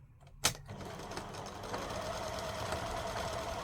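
Sewing machine running steadily while stitching the seam of a patchwork stocking, a sharp click near the start, then a continuous low mechanical whirr and rattle at moderate, even level.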